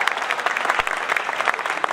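Dense, lively audience applause at a Hindi comedic poetry recital, steady and loud throughout with no gaps.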